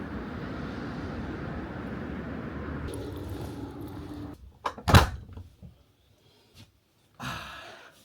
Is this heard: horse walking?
no